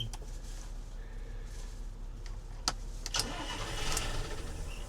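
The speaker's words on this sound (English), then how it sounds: "Right, let's turn the key." A boat's starboard engine, sunk and abandoned for ten years, cranks after the key is turned, a continuous low mechanical churn with sharp clicks and rising strain toward the end.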